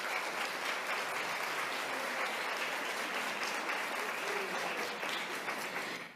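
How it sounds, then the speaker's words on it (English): A lunch keynote audience claps in a steady, dense wash of applause that holds throughout, fading slightly at the very end. "Let's give them a round of applause."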